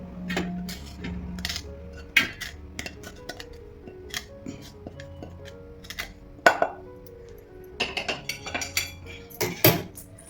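A metal spoon scrapes and clinks against a pot and a steel plate as hot besan batter for patvadi is transferred into the oiled plate, with irregular sharp clatters and taps separated by quiet gaps.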